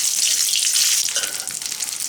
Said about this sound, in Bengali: সরিষা ফুটে আসছে